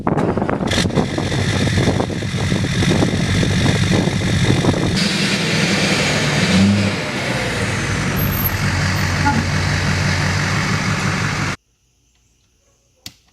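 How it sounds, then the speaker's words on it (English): A truck being backed around to a garage, its engine rumbling steadily and loud for about eleven seconds with a brief hiss like an air brake, then cutting to near silence with one faint knock at the end. "So I'm gonna back the truck around to the garage"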